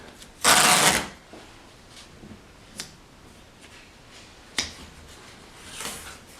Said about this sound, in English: Putting the tape on there just so I have a spot to mark on